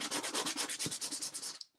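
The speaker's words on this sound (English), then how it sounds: "And now I'm hoping that when I sand it down, you'll have exactly the right thickness." Putty on a model tugboat hull is sanded by hand in quick, even back-and-forth strokes, a close, scratchy rasp that repeats steadily and then stops abruptly.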